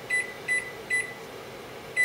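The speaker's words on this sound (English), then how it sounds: "I'm going to set my timer for about 10 minutes." An oven timer beeps while being set in a home kitchen: four short, clear electronic beeps at irregular intervals over a faint steady background hum, with no talking.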